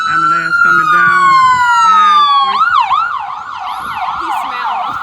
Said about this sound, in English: Ambulance coming down.